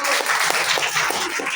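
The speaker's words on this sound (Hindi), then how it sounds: "कैप के लिए जोरदार ताली" A crowd claps in steady, dense applause for a medal winner at a school result and scholarship ceremony, loud and sustained with no voices on top.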